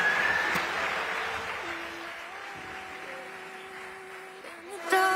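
Applause from a live audience at an inspirational talk event, a steady broadband clatter of clapping that fades slightly over a few seconds, with faint background tones.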